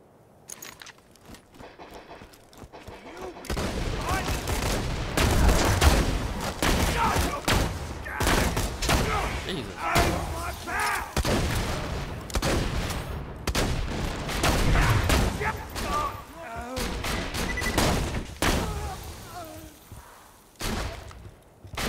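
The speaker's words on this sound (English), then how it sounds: "How weird does a turret sound from a distance?" Bursts of automatic turret gunfire in Borderlands 2 rattle from a distance, running as dense repeated volleys through most of the stretch after a quiet opening, muffled and somewhat far off with no voices.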